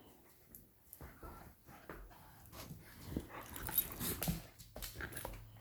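Beagles at home whimper and make soft grumbling, yipping noises, close but quiet, in irregular bursts that grow busier toward the middle.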